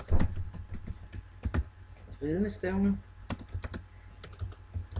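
Keys clatter steadily on a computer keyboard as an article title is typed into a Joomla 2.5 JCE editor, close and fairly quiet, with a short stretch of speech in the middle.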